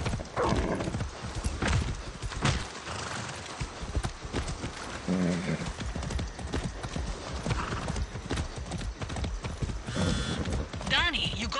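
Horse hooves clip-clop in the video game Far Cry 6 in a steady rhythmic gait under game sound and music, with a horse whinnying at points.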